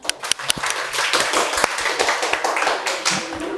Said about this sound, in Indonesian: beri tepuk tangan sekali